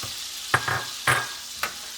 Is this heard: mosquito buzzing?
no